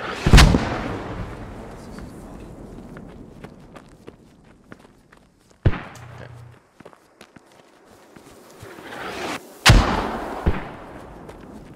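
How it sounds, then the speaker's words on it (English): Mortar fire in the video game Squad: several heavy, booming impacts spaced seconds apart, loud and sharp against a quiet background, with fainter rumbles and footsteps between them. "chill on the fucking mortars"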